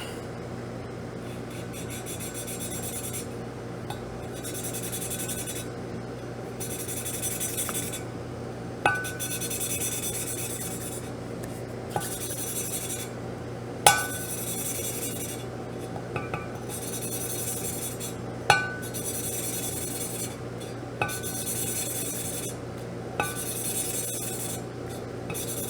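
Engine valve being lapped into its seat with compound and an oiled stem on a Mercedes 560SL, giving a steady gritty rasping rub in repeated strokes with occasional sharp clicks, close and fairly quiet.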